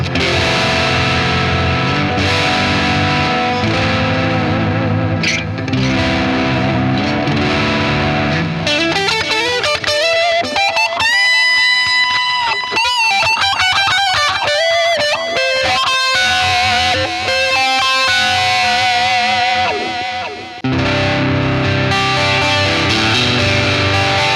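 Overdriven Gibson Nighthawk electric guitar with its humbucker tapped plays chords and quick melodic runs with a thin, bright tone, continuous and loud throughout with effects coloring the sound.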